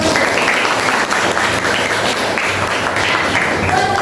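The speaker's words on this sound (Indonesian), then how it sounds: "Iya, tepuk tangan." A classroom group of students claps steadily and loudly for a few seconds, a close, dense patter of many hands with slight swells.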